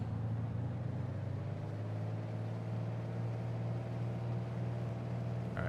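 Piper Archer II engine idling in Microsoft Flight Simulator 2020, a steady low propeller-engine drone that holds evenly throughout.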